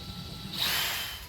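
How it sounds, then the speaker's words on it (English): A drill bores a drainage hole into a bonsai pot, its short rising whine close by and steady for about a second over a low background hum. "So this pot doesn't have any drainage holes, but on the back here we have marks of where the drainage holes should be. So we're going to drill these out."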